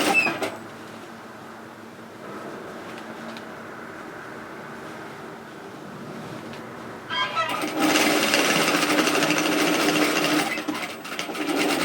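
A sewing machine stitches a seam on a large unlined reusable shopping tote, running fast and steady for the last few seconds after quieter handling of the fabric and speech.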